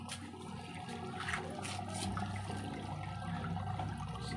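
A Haier 9kg automatic washing machine with a draining fault drains water, a steady rushing gurgle that swells and becomes fuller midway through, heard close with no talking.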